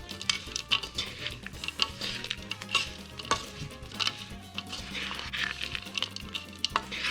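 Rum-soaked dried mixed fruits stirred in a bowl, producing wet squelching and soft clicking taps of a spoon, irregular close strokes with occasional louder knocks, no talking.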